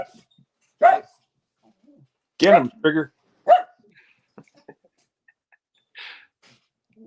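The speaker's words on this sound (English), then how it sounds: "But that's my dog, sorry." A pet dog barks several times in short sharp bursts at a home, with a person speaking briefly between the barks and a softer yip near the end.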